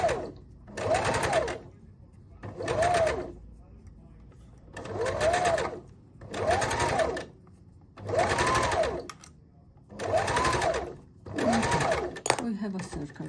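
An electric sewing machine stitches fabric for a rose brooch in seven short, even bursts of about a second each, separated by brief pauses, close and clear, with a voice speaking quietly around the runs.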